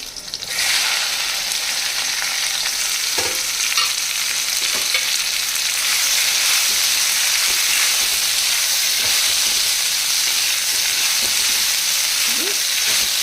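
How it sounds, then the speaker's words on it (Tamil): Okra, green chili and curry leaves fry in a pan for sambar, giving a steady, dense hiss of sizzling oil that runs throughout with occasional faint stirring clicks. "கொஞ்சம் கருவேப்பிலை, இப்போ வெண்டைக்காய் போட்டுப்போம்."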